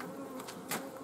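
Honeybees buzz near a beehive while swarms are moved between boxes, a steady close drone with a louder swell partway through, no voices.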